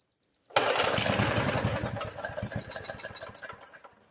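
A Murray 450 series push mower engine sprayed with starter fluid suddenly fires and sputters, roaring briefly then fading and chugging unevenly as it dies out over a few seconds; faint clicks precede it.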